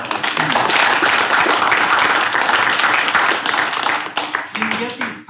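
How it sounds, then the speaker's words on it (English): Lecture audience applauding, a dense burst of clapping that holds strong for about four seconds, then thins out and fades while a few voices speak. "we can give them a round of applause."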